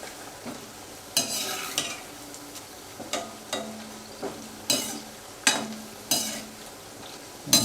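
Sweet wheat-flour kapani pieces, with added gram flour, frying in oil in a pan: a soft continuous sizzle broken by repeated scraping stirs of a utensil against the pan every second or so.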